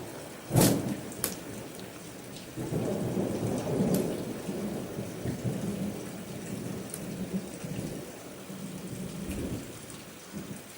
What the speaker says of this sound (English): I just saw the lightning then. So the storms are coming.